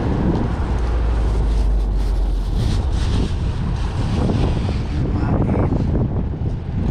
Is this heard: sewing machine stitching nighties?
no